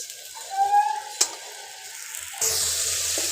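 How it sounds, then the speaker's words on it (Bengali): Spice paste of turmeric and chili sizzles in a hot pan before fish goes in, a soft frying hiss with a brief clink, then a louder, steady sizzle in the final second. "মশলা কষা কষা হয়ে গেছে, এখন এর মধ্যে দিয়ে দিব মাছ।"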